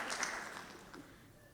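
Faint audience applause at a youth sustainability session fades out gradually over a second and a half, heard distant and soft in a large room.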